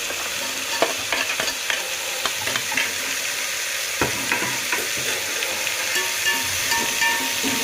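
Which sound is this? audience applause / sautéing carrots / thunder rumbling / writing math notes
sautéing carrots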